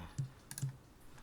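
A computer keyboard in a quiet room gives two soft, distinct key presses about half a second apart, faint and close, with no speech.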